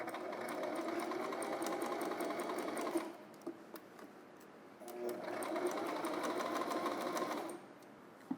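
A sewing machine straight-stitching bias tape onto a dress sleeve, running in two long steady bursts of rapid whirring with a short pause between, close and moderately loud.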